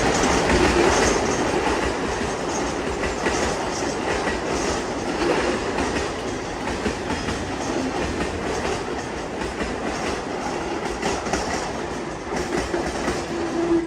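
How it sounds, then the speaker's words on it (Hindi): A Mumbai local train running, with loud continuous rumble and rhythmic clickety-clack of wheels over rail joints, close and steady throughout with faint squeals and no voices. "चले मैं आपको दिखाता हूँ मुंबई की जान लोकल ट्रेन"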